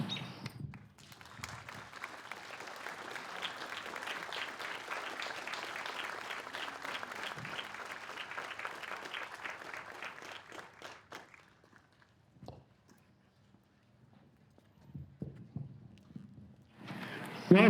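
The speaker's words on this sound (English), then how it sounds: "if we could get another round of applause for Mr. John Hugh" An audience at an outdoor park concert by a police band applauds, a dense round of clapping that runs for about eleven seconds, then fades to scattered claps, quiet gaps and brief talk.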